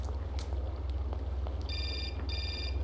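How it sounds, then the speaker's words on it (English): In the video game Syberia a telephone rings in two short electronic bursts near the end. Before them a low steady hum and faint ambient noise fill the scene. "of course the phone rings"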